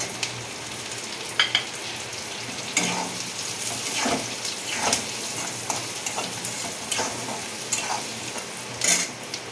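Green chillies slit down the middle drop into hot oil with onion in a pan for egg posto, frying with a steady sizzle and irregular clinks and scrapes of stirring.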